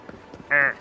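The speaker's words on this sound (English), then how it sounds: "That was a fucking crow I heard." A crow in a video game gives a single short harsh caw, loud and close, standing out briefly against quiet game ambience.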